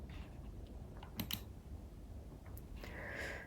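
Mouse clicks in scheduling software, a soft click near 1.2 s and a faint one near 2.6 s, heard alone against low room hiss with no talking.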